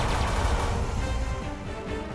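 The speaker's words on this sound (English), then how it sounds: "now we can go ahead and exploit the hull breach with the particle cannon" A particle cannon fires during a space ship battle in the strategy game Halcyon 6, a loud, dense burst with a heavy low rumble that fades slightly toward the end.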